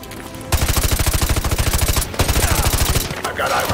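Full-auto gunfire in the Call of Duty Modern Warfare 2 video game: a loud, rapid, evenly spaced stream of shots that starts abruptly, breaks briefly, then resumes, with game noise and voices mixed in.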